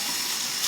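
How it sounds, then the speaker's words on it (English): Tap water runs steadily into a sink, a close, continuous broadband hiss with no break through the short stretch. "I turn on my water."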